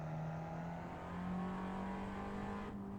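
A race car engine in a racing simulator, held at a steady droning pitch as the throttle is feathered, with a slight rise partway through and a sudden change near the end; no talking.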